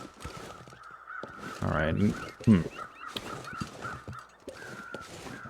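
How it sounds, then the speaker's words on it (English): Crows cawing in the video game The Long Dark, with several harsh caws spread across the clip while someone talks over them. "I hear crows in that direction, too"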